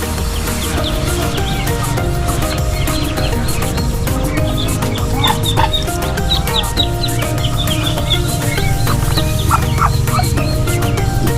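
Chickens cluck and call amid a busy, steady backyard farm din with ducks nearby, short bird calls scattered throughout over a constant low background rumble.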